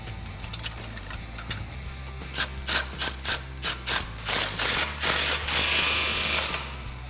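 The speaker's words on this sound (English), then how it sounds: "let's tighten up our muffler and tailpipe section." Ratchet tightening the muffler and tailpipe section of a 2011-2014 Mustang GT axle-back exhaust, rapid clicks building into a run of even strokes, close and distinct.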